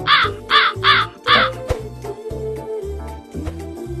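Several loud, harsh crow caws in quick succession, stand alone over a low sustained musical tone with no talking.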